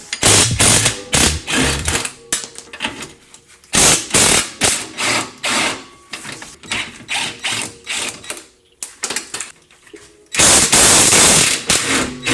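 Power impact wrench hammering on a lower control arm bolt of a Subaru during a rear toe arm install, loud repeated bursts of rattling impacts separated by short pauses, ending in a long sustained run.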